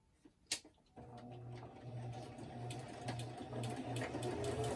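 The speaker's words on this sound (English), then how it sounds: "I'm going to quickly run to the sewing machine and do this off camera very quickly" A sewing machine stitching through a handmade journal. A faint click comes first, then the motor starts and hums steadily with a rhythmic pulsing whir that builds slightly in loudness.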